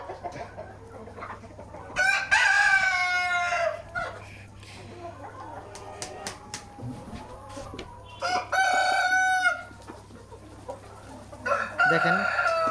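Tiger breed chickens on a poultry farm cluck steadily at close range, broken by several loud crowing bursts from roosters, with a low constant hum from farm equipment underneath.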